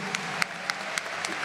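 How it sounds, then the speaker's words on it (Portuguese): A church congregation at a Mass applauds, giving steady, dense clapping that fills the space evenly, with a few sharper individual claps standing out over the continuous wash, heard alone without voices. "Então vamos aplaudir com mais força."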